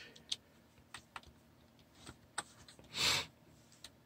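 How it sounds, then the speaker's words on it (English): Sparse, uneven keystrokes on a computer keyboard typed with one hand in the dark, soft individual clicks spaced irregularly, one louder clack, and no talking. "I'm typing in the dark here with one hand"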